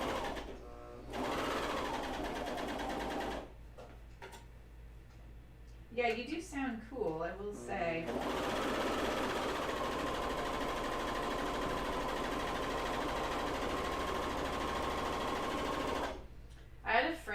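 A serger or coverstitch machine sews underwear in long, steady whirring runs, broken by pauses where people chat and laugh nearby.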